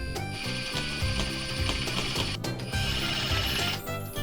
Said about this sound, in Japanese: じゃあネジで留めていきます。